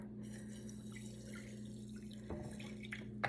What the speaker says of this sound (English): I'm going to let them soak with water